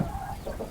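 Black Spanish turkeys give a short burst of clucking, gobbling calls close by on a small farm with chickens, alone without talk.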